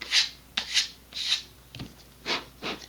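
A part for an Estes Optima Pro model rocket is sanded to round it, heard as six short, close rasping strokes in an uneven rhythm, alone without talk.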